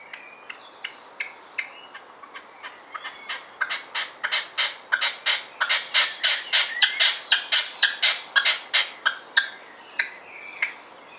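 A red-legged partridge gives a territorial call, harsh repeated squawking notes that start quietly and build to a loud rhythmic crescendo before tapering off, heard alone outdoors.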